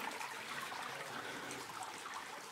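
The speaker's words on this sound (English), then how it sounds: "here is the return of the water flow" Water flowing through a deep cave in Nova Scotia, a soft, steady trickling wash with faint splashes, quiet and continuous.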